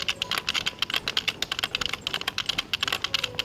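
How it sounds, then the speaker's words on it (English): Rapid, continuous clatter of keys on a loud computer keyboard, close and crisp, with fast irregular keystrokes and no talking. "The sound of the keyboard is so loud"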